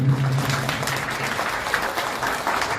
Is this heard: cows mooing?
no